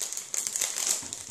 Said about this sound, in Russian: Дальше я взяла вот такой вот маленький пакетик кокосовой стружки.